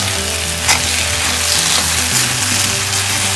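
Soya chunks hitting a pan of frying onions and tomatoes, a loud, close, steady sizzle with crackling throughout.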